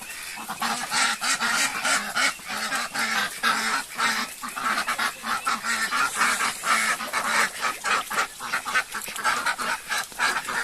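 A flock of ducks, including a drake, quacks and honks continuously nearby at a farmyard, many birds calling over one another in a busy, overlapping chorus.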